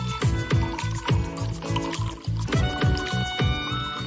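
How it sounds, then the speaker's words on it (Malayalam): Water pours from a vessel at home during breakfast, a steady liquid stream with a series of regular, rhythmic pulses as it fills, fairly loud and close under a faint background. "അമ്മ വെള്ളം വിതരാം"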